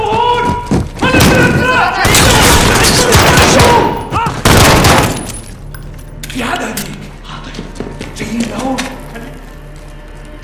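Gunfire in the video game Call of Duty: Modern Warfare, loud dense bursts of rapid automatic shots and heavy thuds, followed by quieter scattered shots, with characters talking over the action.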